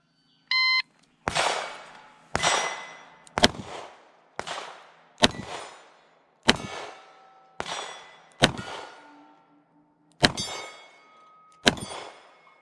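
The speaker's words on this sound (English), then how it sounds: "let's take it and shoot it in a steel challenge match" Taurus 444 UltraLite titanium .44 Magnum revolver fired at steel targets in a steel challenge match: a short start beep, then a string of loud, sharp shots at roughly one-second intervals, each followed by a ringing clang of hit steel.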